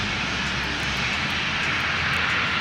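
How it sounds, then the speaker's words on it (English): Engines of a KC-135 Stratotanker aerial refueling aircraft give a loud, steady, broadband roar without a break, alone and close. "KC-135 Stratotanker, an aerial refueling aircraft that extends the range and endurance of combat planes."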